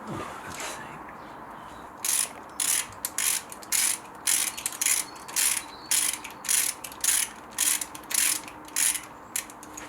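A torque wrench ratchets on a Mk2 Golf 16V engine during a gasket change, a close series of about a dozen short clicking bursts in an even rhythm.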